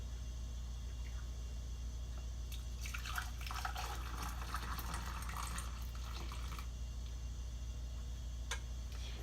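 Hibiscus cranberry-style sauce poured through a jar funnel into shoulderless jars, a faint burst of liquid trickling and splashing for about four seconds in the middle over a low steady hum, then a single clink near the end.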